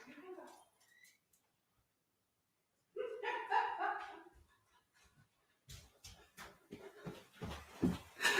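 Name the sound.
dog barking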